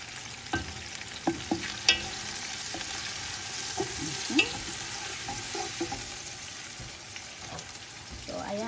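Chopped onions fry in oil in a pan with a steady close sizzle. A spatula stirs them now and then with scattered knocks, and a voice speaks briefly over the hiss.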